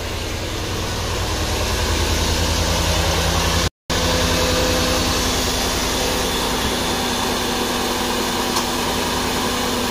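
A 2006 Cadillac DTS with the 4.6-litre engine idles with its A/C compressor engaged, producing a steady, loud mechanical drone and whir that holds constant throughout, heard up close with no voices.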